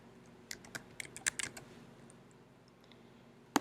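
Keys on a computer keyboard are tapped in short, irregular bursts while an account is filled in, with close, crisp clicks and brief pauses between them.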